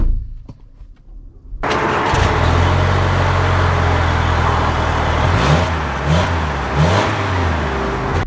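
A Toyota Highlander Platinum starts up after a brief quiet moment, then its engine holds a steady loud hum, revving up and down several times near the end as it pulls away; nobody speaks.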